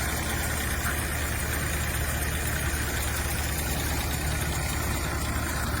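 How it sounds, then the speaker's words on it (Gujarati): A Massey Ferguson 241 DI tractor runs a Balveer jumbo thresher. The engine drones loud and steady throughout, with a dense broadband roar from the machinery and no pauses. "અત્યારે આપણી જોડે છે 241 DI ટ્રેક્ટર, એની જોડે છે બલવીરનું થ્રેશર"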